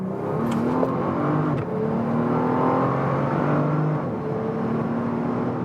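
A Bentley Continental GT Speed with a twelve-cylinder engine accelerates on the Vallelunga racetrack in Italy, a steady loud engine drone rising through the gears with a brief dip near the middle as it shifts.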